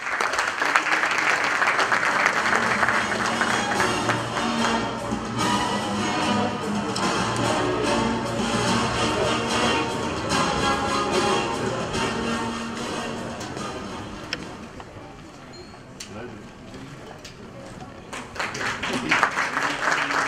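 Sustained applause from an audience at a sports awards ceremony in Sakarya, a dense continuous wash of clapping filling the hall for the whole stretch, dipping slightly then swelling again near the end.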